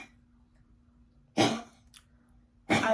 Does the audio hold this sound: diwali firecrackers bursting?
no